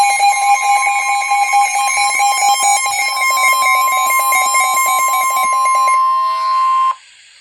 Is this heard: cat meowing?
no